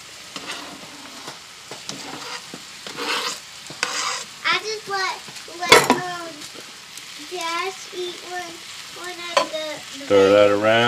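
Venison bacon sizzles and is stirred on a grill, with scraping strokes over steady frying hiss, while voices talk throughout and someone speaks briefly.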